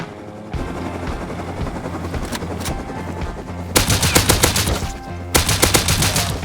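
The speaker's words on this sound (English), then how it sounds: "I landed my mini heli nearby and steeled myself" Mini helicopter in the survival game Rust, a steady close rotor and engine drone throughout, joined later by loud rapid bursts of automatic gunfire.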